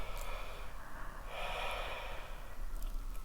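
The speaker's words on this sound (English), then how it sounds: "Relax your exhale. Straight away inhale now." Deep, forceful breaths during a breathwork exercise, with one long hissing inhale or exhale swelling in the middle over a steady close background, and no speech.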